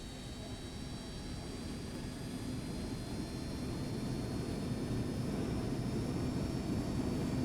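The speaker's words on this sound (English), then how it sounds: "The sounds of these RB211s are beautiful." Steady roar of Rolls-Royce RB211 jet engines on a Boeing 757 in a flight simulator game, a broad low rumble and faint high whine, constant and unbroken throughout, like an airliner cruising in flight.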